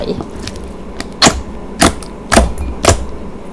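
Clear Thai slime squished and kneaded by hand in close-up ASMR, giving four sharp, wet clicking pops spaced about half a second apart over a soft background hiss.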